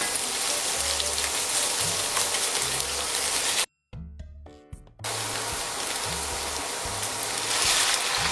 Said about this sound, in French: On va faire griller ça un petit peu.